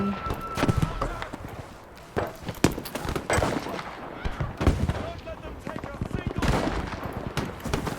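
Gunfire from the Battlefield V video game crackles in scattered bursts and single shots, some sharp and close, others farther off, with voices talking over the action.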